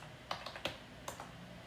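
Keys tapped on an external computer keyboard connected to a MacBook Air, a few faint, sparse clicks in a quiet room with no voices.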